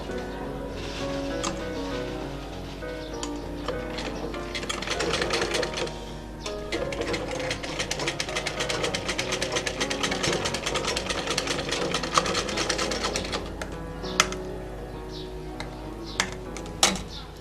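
A sewing machine stitches a cotton cloth face mask. Its needle whirs in short starts, then runs continuously for several seconds before stopping, with a few clicks near the end.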